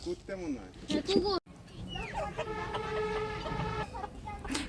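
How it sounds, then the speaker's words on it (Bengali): A rooster calls as it walks along with a hen following, its clucking, crowing-like calls carried over nearby talking outdoors. "মোরগটা সেই মোরগ এটা একদম ডাকতে ডাকতে যাইতেছে"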